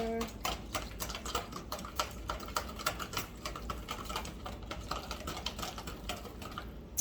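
A marinade being whisked in a bowl at home: a fast, steady run of light clicking taps continues for the whole stretch, close and fairly even in loudness.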